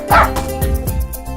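A cartoonish dog on a farm gives two or three quick loud yipping barks, close and alone.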